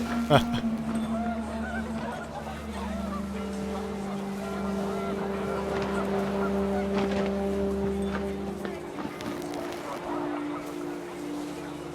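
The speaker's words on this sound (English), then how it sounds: "The wind picked up and panicked geese appeared and quickly went." Panicked geese in the video game What Remains of Edith Finch, a chorus of honks and drawn-out calls layered over wind, fairly loud and sustained before fading near the end.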